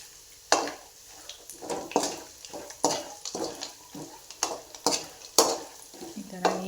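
Poha chivda ingredients frying together in one pan on low gas, with a rhythmic run of spatula scrapes and clinks against the pan over a light sizzle, close and uneven.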